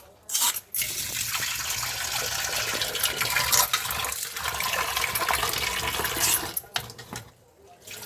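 Matar dal rinsed with running water in a kitchen, a loud continuous gush of tap water splashing into a vessel for several seconds, then cutting off, with brief handling sounds at either end.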